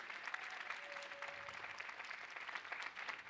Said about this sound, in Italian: Ancora un bel applauso per lei.